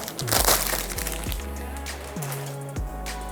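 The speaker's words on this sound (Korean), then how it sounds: "네, 이제 비닐에서 꺼내 볼게요." An ASUS ROG Strix Z690-G Gaming WiFi motherboard is slid out of its plastic bag, giving a few close crackles and crinkles over steady background music, with no voices.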